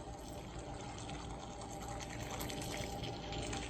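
An airless paint sprayer pumps water through its system to flush out old dirty paint residue, giving a steady, continuous mechanical whir and rush of liquid at close range without pause.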